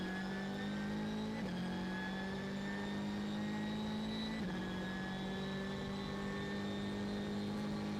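Onboard a BMW M6 GT3 race car at the Nürburgring 24-hour race: a loud, steady engine drone holding a high pitch, with two brief dips in note like gear shifts, continuous throughout with no talk.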